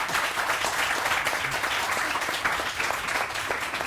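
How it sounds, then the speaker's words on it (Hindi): Continuous, even applause from a studio audience on a television morning show rolls on at a steady level throughout. "तालियां बजनी चाहिए"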